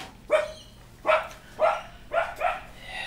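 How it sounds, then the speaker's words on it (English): Dogs barking indoors during a watercolour painting livestream, five sharp barks with short pauses between them that sound fairly loud and nearby, with no talking. "excuse the dogs."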